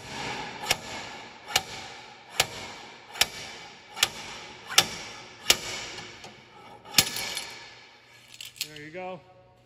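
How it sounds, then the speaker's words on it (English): A series of sharp metallic clanks at a steady rhythm, about every second, as a slide hammer is repeatedly slammed, ending with a short rattle and squeak. "now we're gonna see if this slide hammer actually works"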